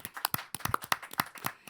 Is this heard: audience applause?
yes